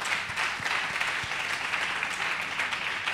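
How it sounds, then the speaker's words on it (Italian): A studio audience at a live comedy podcast taping claps continuously in a close, dense wash of applause that stays level for a few seconds. "Applauso."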